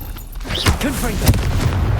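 Confringo fire spell blasts in the Hogwarts Legacy video game: a couple of heavy booms burst out over game effects while a voice calls out a spell name.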